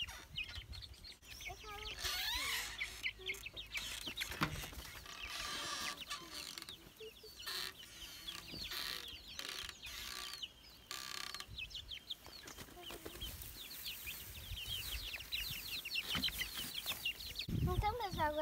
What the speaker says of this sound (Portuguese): Então agora a gente vai pôr os pintinhos pra dentro, eles já estão querendo entrar.